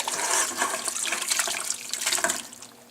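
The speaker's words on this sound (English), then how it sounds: "You're gonna pour the stock into the colander." Hot chicken stock poured into a colander, a loud, continuous rush and splash of liquid that lasts nearly three seconds before tapering off.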